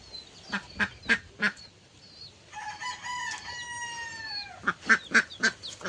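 Ducks at feeding time give a run of loud rhythmic quacks, then a drawn-out honking call, then another burst of quacks, close by with no talk.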